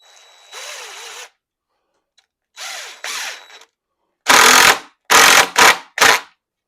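A power drill whirs in short bursts, a few longer runs then quick spurts, driving screws into wood up close while fitting a rocking chair headrest, with no talking.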